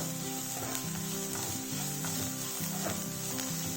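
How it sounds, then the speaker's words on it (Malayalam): Masala for chicken cutlet with onions sizzling and frying steadily in a hot pan, with a constant close crackle and occasional stirring scrapes, no voices. "നന്നായിട്ട് ഒന്ന് സോട്ട് ചെയ്യണം."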